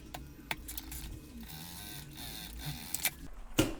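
A sewing machine runs in a steady mechanical whir with a few sharp clicks, stitching the side seam of a synthetic tote bag's lining, close and alone with no talk.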